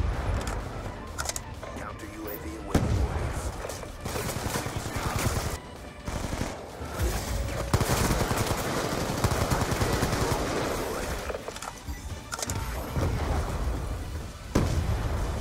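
Dense, loud gunfire from the Call of Duty Black Ops 2 video game: continuous automatic bursts and explosions layered with game effects, and a player talks over the action.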